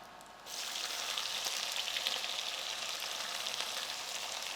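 Large onions go into hot oil in a pan for Telangana restaurant-style chicken fry, setting off a sudden bright sizzle that holds steady and close, with no voices.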